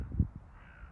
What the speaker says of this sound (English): Full of crows.